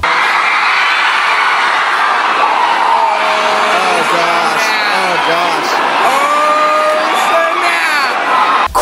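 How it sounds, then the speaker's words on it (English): A dense, unruly Black Friday shopping crowd packs a mall store, with constant loud shouting, screams and whoops layered over a roaring wall of voices, steady and close throughout. "Crowds like riots were seen in hundreds of malls"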